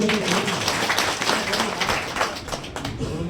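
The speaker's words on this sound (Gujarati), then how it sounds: "આપણે એક વખત જોરદાર તાળીઓથી સાહેબનું સ્વાગત કરીશું" Crowd applause at a Dhanera taluka BJP party worker meeting in Banaskantha, a steady dense wash of clapping lasting throughout at moderate loudness, with some voices mixed in.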